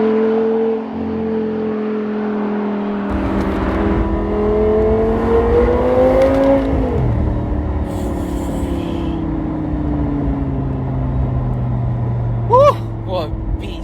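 A limited-edition Audi R8 GT V10 fitted with a Milltek race exhaust pulls hard, its engine note climbing loudly through a rising rev sweep before a shift, then droning on steadily; a voice is heard briefly near the end.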